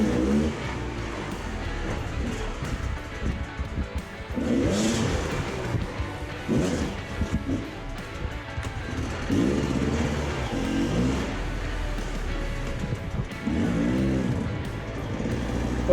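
A motorbike engine revving and droning continuously as it rides a dirt track straight through an old abandoned house, with throttle surges rising and falling over a constant close, loud roar.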